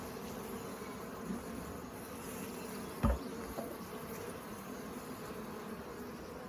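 A huge caught honey bee swarm hums inside its hive boxes in a continuous, even buzz that stays close, with a brief knock partway through.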